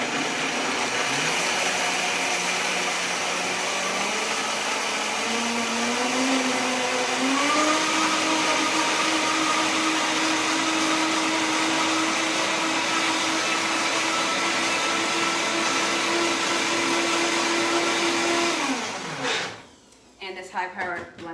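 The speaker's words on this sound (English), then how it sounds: "High-powered blender makes short work of it." A high-powered blender whirring sunflower and hemp seed vegan cheese, its motor pitch climbing in steps then holding a loud, steady whine, close up, before cutting off near the end.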